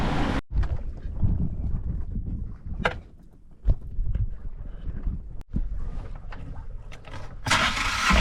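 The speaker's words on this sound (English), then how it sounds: "So the engine seems to be running pretty good" Sailboat engine running on an ocean crossing, a steady low rumble that carries through the clip, broken by a few sharp knocks and gusts of wind buffeting the microphone.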